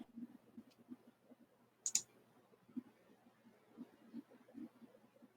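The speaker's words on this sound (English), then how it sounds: "I like how typing in Yamcha autofills into Yamcha death pose at the top of the search bar" Light, quick clicking of computer keyboard keys typing into a search bar, an irregular run of soft close taps with one brief sharper burst midway, no talking.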